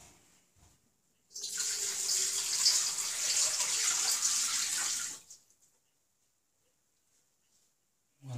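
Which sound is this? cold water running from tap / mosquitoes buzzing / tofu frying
cold water running from tap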